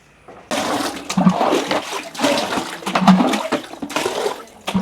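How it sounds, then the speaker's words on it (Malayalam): Water being scooped out of a pond with a small vessel while it is drained for fishing, a run of loud, near sloshes and splashes that come in uneven surges. "കോരി കോരി ആ ചെറിയ പാത്രം കൂടെ വെച്ച് കോരി"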